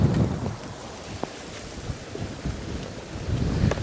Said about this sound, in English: I'm trying to get out of the wind.